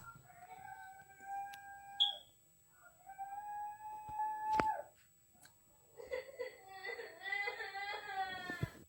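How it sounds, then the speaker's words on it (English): Children cry in the background with high, wavering wails in several drawn-out bursts separated by short pauses, rising into a more agitated sobbing toward the end. "You can hear the kids crying in the background."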